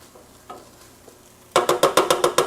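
Vegetables stirred in a hot pan while cooking for caldo de albondigas: a quiet stretch with a few soft clinks, then a run of loud, evenly spaced scraping strokes with sizzle beneath, close by.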